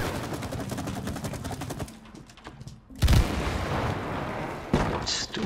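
Gunfire from the video game It Takes Two, a dense rapid burst of shots followed by a sharp louder blast and further firing, close and loud, with voices briefly underneath.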